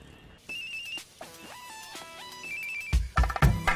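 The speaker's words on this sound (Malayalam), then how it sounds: "ആ നമ്പറിന്ന് കോൾ വരുന്നു" A mobile phone rings with an incoming call, playing a melodic electronic ringtone of stepped tones that repeat clearly and close by, followed near the end by a few heavy, louder low thumps.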